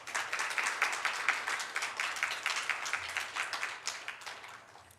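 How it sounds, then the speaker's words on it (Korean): Church congregation at a Sunday morning service clapping for the kitchen team, a moderately faint run of sustained applause with uneven, overlapping claps throughout. "격려의 박수를 부탁드립니다"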